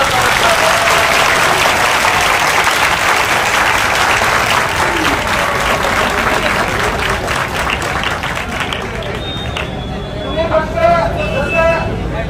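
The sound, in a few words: crowd applauding loudly at a rally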